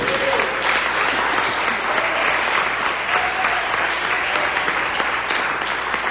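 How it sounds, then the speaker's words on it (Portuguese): A church congregation applauds during an evangelical service in Manaus, sustained, even clapping from many hands that continues for several seconds, with faint voices beneath. "Se você crê, diga amém e aplauda o Senhor."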